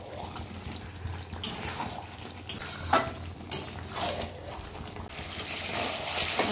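A cooking pan with spices and masala being stirred before prawns go in, with scraping and clinking of a utensil against metal over a low sizzle, several sharper knocks and splashy bursts scattered through, close and fairly loud.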